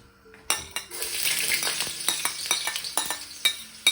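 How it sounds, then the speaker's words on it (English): Garlic sizzles in hot oil for a tofu stir fry, a close bright frying hiss broken by repeated clinks and scrapes of a utensil against the pan. "First I'm going to put the garlic. Let the garlic saute"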